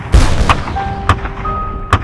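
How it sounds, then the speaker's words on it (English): Cannon fire near an army encampment by a swamp, heard as a few heavy, loud booms spaced irregularly, each a sharp deep thud with a rumbling tail over a steady low background. "I could hear nearby cannon fire throughout the morning."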